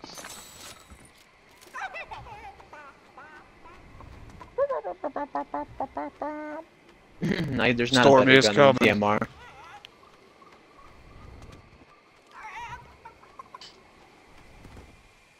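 Chicken clucking in the video game Fortnite, a burst of bird calls amid game sounds, with players talking and laughing over it.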